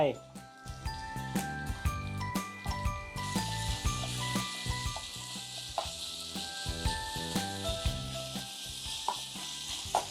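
Minced pork stir-frying with dried chili and holy basil, a steady sizzle and hiss with metallic tinkles and scrapes of a spatula stirring in a wok, continuous and close, with a voice speaking over it.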